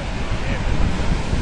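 Sea waves breaking at Ondarreta Beach in San Sebastian, a loud, rough wash of surf mixed with strong wind buffeting the microphone, continuous over a short stretch.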